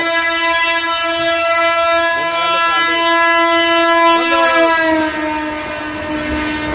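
A Bangaon AC local train runs past close by, a loud sustained horn blaring over rolling rumble, then the horn fades as the train keeps passing.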